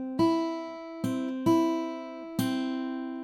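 An acoustic guitar plays the opening notes of section B of a theme from Harry Potter as four clear plucked notes in a slow, uneven rhythm, each ringing out and decaying, close and alone with no talking.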